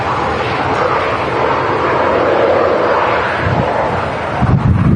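An airliner rolls along runway 23 right at Manchester Airport with a loud, steady roar of jet engines, mixed with wind noise against the microphone, rising slightly toward the end.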